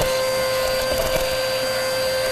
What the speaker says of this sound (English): Best way is to use a vacuum.